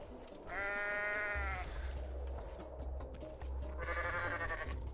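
Two goat bleats from the video game Goat Simulator, a wavering, nasal cry early on and a second near the end, loud over a steady low in-game rumble.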